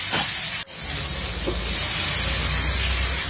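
A loud, steady sizzle of shallots and garlic frying in hot oil in a pan fills the whole stretch, with a brief sharp crackle early on.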